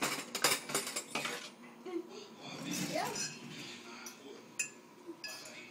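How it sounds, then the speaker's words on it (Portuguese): A fork clinks against a bowl while eggs are mixed, with a quick burst of sharp metallic taps early on and softer scraping after, as a child and an adult chat nearby. "Agora pega um garfo e mistura os ovos."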